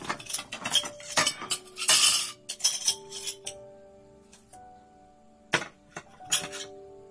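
Plates and cutlery clink and clatter at close range in sharp, irregular bursts, with ringing metallic tones hanging briefly between knocks and quieter pauses between them.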